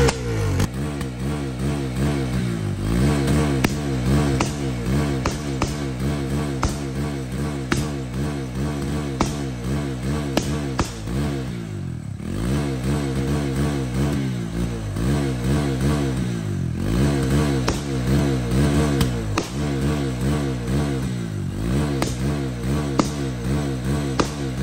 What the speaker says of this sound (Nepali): अब यसो धोएपछि फेरि डेन्जर मिसपार हान्छ